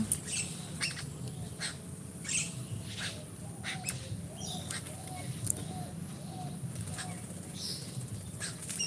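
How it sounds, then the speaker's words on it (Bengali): Birds chirp and squawk in short, repeated calls over a low background hum, fairly close and lively throughout. "পাখিগুলো এত কিচমিচ করছে"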